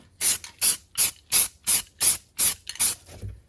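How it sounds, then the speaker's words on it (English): About nine short, sharp bursts from a spray paint can, tested before spraying inside a boat engine's lower unit, in a steady rhythm, close and loud, hissing bright, with brief silences between them. "I'm actually going to test the spray can first prior to spraying it inside the lower unit"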